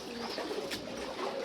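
Pigeons cooing softly near a two-tier pigeon cage, faint low calls over quiet background noise.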